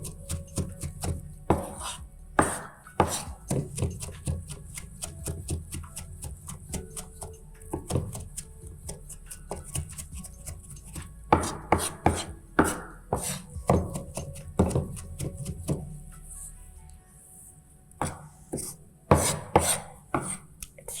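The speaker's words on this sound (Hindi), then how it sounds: "जितना बारीक इसको आप चॉप कर सकते हैं उतना बारीक आप चॉप कर लीजिए" Knife chopping food finely on a board for Arabic rice with chicken nuggets, heard as bursts of rapid, close, crisp rhythmic taps with brief pauses between runs.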